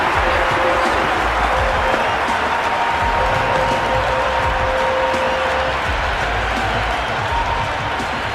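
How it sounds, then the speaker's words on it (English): A stadium crowd in the Cricket 26 video game cheers and applauds through an IPL match between Kolkata Knight Riders and Delhi Capitals. The sound is a loud, steady wall of clapping and cheering with faint talk under it. "The crowd are loving it."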